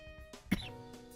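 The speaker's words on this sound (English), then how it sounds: "I have a cough all of a sudden." A single sharp cough from an adult man during a political talk segment, loud and close against a quiet room hum.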